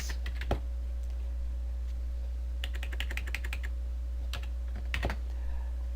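Keys clack on a computer keyboard while entering data into an Excel spreadsheet, with short bursts of rapid typing and scattered single keystrokes at close range over a steady low hum, no talking.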